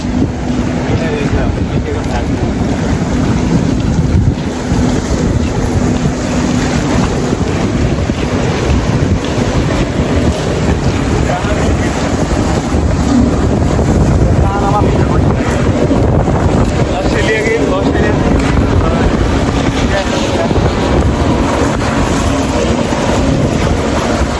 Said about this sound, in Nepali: ल्याए बोट ल्याए है